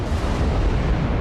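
A ship's gunfire salvo lands in World of Warships, hitting the Des Moines cruiser: a dense, rumbling explosive roar fills the whole moment without pause, loud and close, with no talk.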